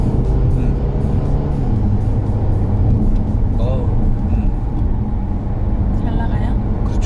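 A Mercedes-Benz GLA 220 accelerating hard in sport mode, heard from inside the cabin: a loud, steady engine drone with a rising pitch, plus road and wind noise, and a person talking over it.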